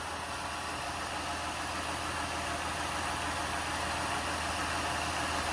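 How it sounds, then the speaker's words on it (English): A 2008 Ford Escape Limited engine idles steadily and smoothly, a constant low rumble with broadband hum, close up and uninterrupted, no voices. "nice and smooth running engine, no odd noises or vibrations"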